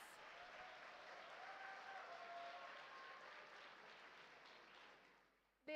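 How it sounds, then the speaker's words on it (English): Audience applause at a medical college centenary foundation day event, a continuous even wash of clapping from a large crowd, heard at a distance and ending abruptly. "let us have a big round of applause"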